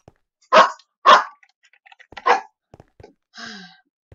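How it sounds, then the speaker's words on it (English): A pet dog barks alone in a quiet room, two loud close barks, a third after a pause, then a softer yip, with small clicks in the gaps. "Doggy, please be quiet."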